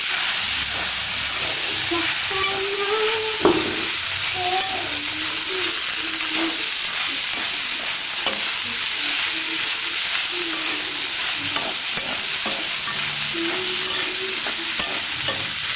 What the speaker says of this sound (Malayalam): അപ്പം ഇനി എന്നിട്ടൊന്ന് മിക്സ് ചെയ്യുക.